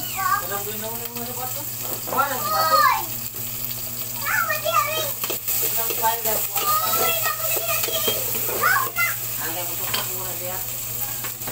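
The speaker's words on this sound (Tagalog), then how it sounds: "Pagkatapos po, lagyan natin na ang sabaw." Broth pours into a sautéed dish in a pan, splashing and sizzling against the hot ingredients while several people, including a child, talk over it nearby.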